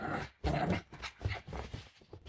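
A German Shepherd makes low, continuous, rumbling vocal sounds, fairly quiet and unbroken, with no clear separate barks.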